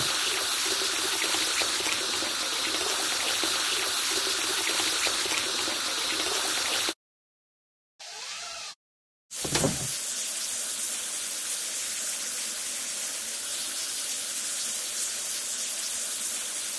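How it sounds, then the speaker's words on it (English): Continuous water spray washing a ship in an island-building video game, a steady close hiss that cuts out briefly, sputters in a short burst, then resumes strongly. "Now we need to wash it clean."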